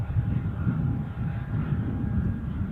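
A Loganair Embraer 145 on approach to Newcastle airport, heard as a steady, fairly loud low roar of engine and airflow that holds without a break.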